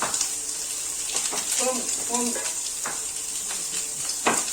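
Broccoli stems fry in a pan for a pork belly dish, a steady hiss with occasional scrapes and clinks, close up while someone talks over it.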